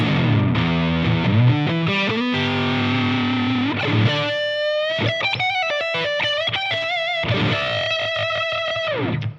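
An electric guitar on a split-coil neck pickup, with a bright, slightly thin clean-to-crunchy tone, plays chords and then picked single-note lines, upfront and alone.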